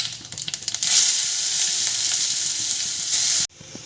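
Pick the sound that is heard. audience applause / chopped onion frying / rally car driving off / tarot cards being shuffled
chopped onion frying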